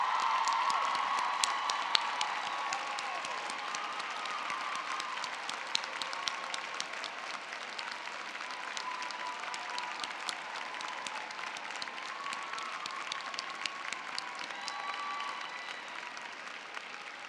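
Audience applause at a college undergraduate commencement ceremony honoring graduates' family members, steady and moderately distant clapping from a large crowd that holds evenly for the whole stretch without cheering.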